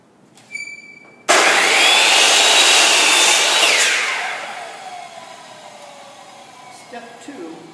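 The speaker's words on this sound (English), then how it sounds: "we cut that right here on the miter saw" A miter saw spins up and slices through a wooden board, about 20.5 inches long, with a loud close whine that holds for a few seconds and then winds down. A brief voice comes before the cut.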